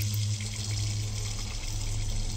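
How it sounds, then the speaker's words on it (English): Water runs steadily from a tap indoors, a soft continuous hiss and splash over a low hum, without pause. "Is that water running? The water's running."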